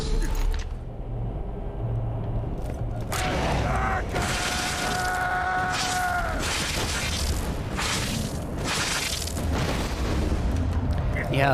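Bada Boom rocket launcher blasts in the Borderlands video game: a constant barrage of heavy booms, rumbles and shattering debris, loud and overlapping throughout with no pause.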